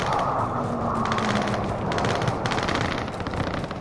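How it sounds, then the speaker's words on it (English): Rapid automatic gunfire in the Call of Duty Warzone video game, a loud continuous rattle of shots with a steady background roar throughout. "Am I getting shot at? Yeah, I am."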